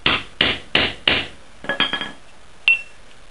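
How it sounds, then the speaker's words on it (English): Four heavy, evenly spaced hammer blows thud close by as a KNO3-and-sugar rocket plug is hammered down, followed by a few lighter metallic taps and a final sharp clink. "So just hammer that down as hard as you can."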